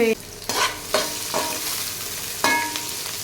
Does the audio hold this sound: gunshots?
no